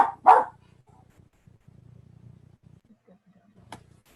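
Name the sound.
dog barking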